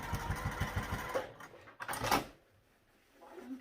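A sewing machine runs close by, stitching fabric in a fast, steady mechanical chatter for about a second, then short bursts of whirring and clicking as the fabric is handled before it falls quiet.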